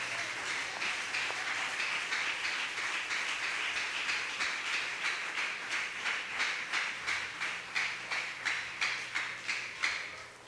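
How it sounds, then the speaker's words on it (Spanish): A church congregation applauding the Lord, producing a dense, sustained wash of clapping that swells into a steady rhythmic beat near the end before fading out, with no speech over it. "Dele un aplauso al Señor en este día."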